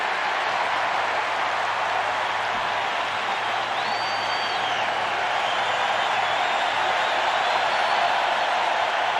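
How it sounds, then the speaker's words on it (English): A packed stadium crowd at a 1991 World Series baseball game between the Minnesota Twins and Atlanta Braves, a loud, steady roar with cheering and whistles that holds throughout the whole stretch. "And the crowd wants this top of the ninth to end right here."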